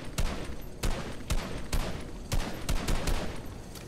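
Gunshots in the video game Fortnite, a string of sharp cracks fired at an uneven pace of roughly one or two per half second, fairly close and with no voices.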